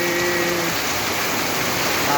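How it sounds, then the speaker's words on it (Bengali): Rain water falls into a broken-down house as a continuous dense patter and hiss of water, fairly loud and even, with a faint tonal hum at the start and no talking. "আমার ভাঙ্গা ঘরে বৃষ্টির পানি পড়ে"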